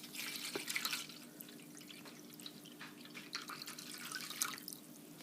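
A quart of water is poured into a silver-cleaning solution of water softener and salt, making a soft, continuous trickle with scattered drips and splashes close by. It stays fairly quiet throughout, with no talking.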